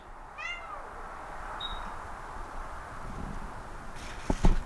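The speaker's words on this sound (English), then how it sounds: "Barn cats." Barn cats on a farm give a clear meow near the start, then a shorter, fainter one shortly after over quiet outdoor ambience. A couple of sharp knocks or taps follow near the end.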